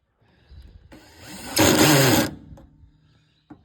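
A power driver on its lowest torque setting runs a rusty screw into a 2016 Massimo MSU500 utility vehicle during a rear turn signal replacement, whirring for about a second and a half, close, with softer mechanical sounds before and after.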